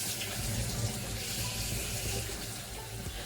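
Lukewarm water running from a sink tap into a basin, a steady close splashing gush that continues unbroken and alone.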